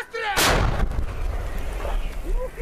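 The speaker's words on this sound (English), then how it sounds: "They are firing 152mm howitzers." A 152mm howitzer firing on a Ukrainian frontline position gives one huge, close blast followed by a long rumbling echo, with faint voices in the background.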